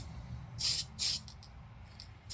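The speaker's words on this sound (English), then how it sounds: "it's just straight on with spraying the black" Aerosol can of black spray paint applied to a plastic Jun Watanabe Hornet model: three short hissing bursts, close and fairly loud, then a fourth starting at the end, over a low background hum with no talk.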